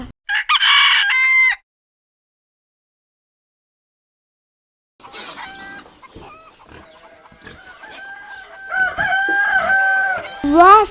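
A rooster gives a short, loud crow at the start. After a silent stretch, a longer passage of crowing and clucking follows, with fowl calling close by and building to a strong final call.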